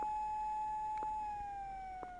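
A steady siren wails continuously in the Japanese horror video game Tsugunohi, a sustained tone that slowly sags in pitch, heard alone against a quiet background.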